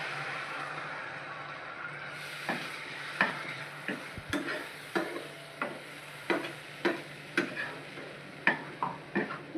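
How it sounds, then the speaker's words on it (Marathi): Cashew and almond gravy for a paneer dish sautéed in a pan, with a series of sharp, regular spoon taps and scrapes against the pan over a faint sizzle, fairly quiet, no talking. "ग्रेव्ही चांगली परतून घ्यायची।"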